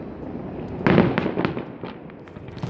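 Fireworks boom and crackle over the Amman Citadel on Jordanian Independence Day: one strong burst followed by a scatter of fainter pops and crackles, heard from a distance.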